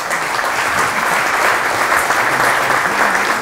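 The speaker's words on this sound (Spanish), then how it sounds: "Pido un fuerte aplauso para él, por favor." A crowd at a science and technology program presentation gives a strong, steady ovation, loud and dense throughout with no break or voices over it.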